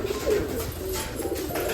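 Pigeons coo inside a room where a cock and hen bird move about freely, soft repeated cooing over a steady low background hum, fairly faint and continuous.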